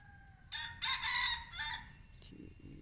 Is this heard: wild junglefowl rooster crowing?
yes